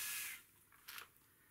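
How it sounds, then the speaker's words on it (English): A short hissing spray of water from a Russell Hobbs 20630 steam iron nozzle, with a loud burst at first and then a second brief, fainter puff. "it's just the little spray of water"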